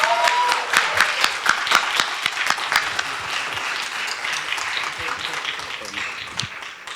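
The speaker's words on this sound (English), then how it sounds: "Please join me in a warm round of applause for Dr. Siddharth Warrior." An audience at a conference event gives a warm round of applause, many sharp claps blending into a steady wash that slowly thins out, with a voice faintly audible beneath.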